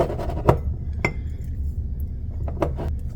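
A glass half-pint jar is handled on a kitchen counter while making French onion dip, with several sharp clinks and taps of glass spaced irregularly over a quiet background.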